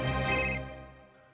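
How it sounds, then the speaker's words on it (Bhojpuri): A phone ringtone for an incoming call sounds once, a bright tonal chime that rings loudly for half a second and then fades away over the next second, with no voices. "संपदा के कॉल आ रहा बा"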